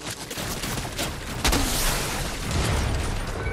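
Gunfire in the video game Fortnite, a burst of overlapping shots and booms packed into a few seconds, loud and close with a heavier blast near the middle.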